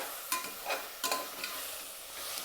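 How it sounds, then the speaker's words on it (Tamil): Onions tossed with salt in a hot pan over a high flame, a steady soft sizzle broken by a few scraping stirs of the spatula, close and fairly quiet with no talking. "உப்பு போட்டாச்சு, நல்லா வதக்கி விட்டுருவோம். ஃப்ளேம் வந்து ஹையில் தான் இருக்குது."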